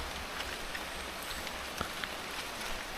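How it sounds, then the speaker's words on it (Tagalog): Steady rain falls during a trip through Batangas, a soft, even hiss of drops with a few faint taps on surfaces and no talking. "Ulan."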